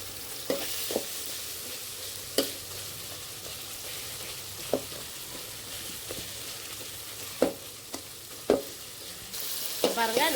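Onions sauté in a pan for egg gravy, giving a soft, continuous sizzle broken by sharp, spaced spoon scrapes and knocks against the pan.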